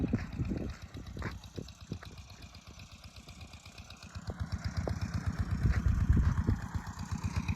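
An engine on a farm water pump vehicle idles near a rice paddy, a steady low mechanical chug with rhythmic pulses that swells louder toward the end, with water trickling in the background.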